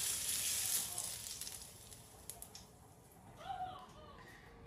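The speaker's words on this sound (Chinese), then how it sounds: "我们放点辣椒面，淋上热油" Hot oil poured over chili flakes gives a sharp hiss that fades into a soft, crackling sizzle, fairly faint, with brief voices after it.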